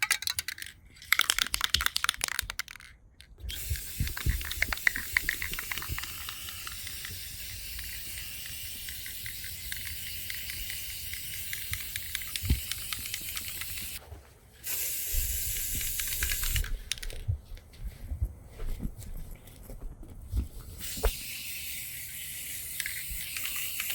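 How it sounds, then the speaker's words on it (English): Aerosol clear matte coat hisses onto a toy Batmobile over its metallic base coat in several long close bursts separated by brief pauses, with no talk. "I'm going to give it a clear matte coat finish on top of that metallic base coat"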